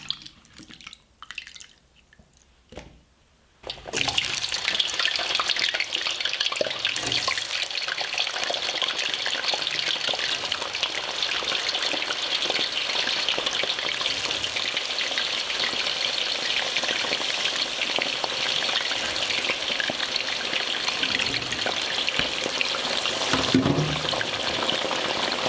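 Homemade fries in hot oil crackle and sizzle in a dense, steady roar that starts suddenly after a few quiet seconds and keeps going without a break.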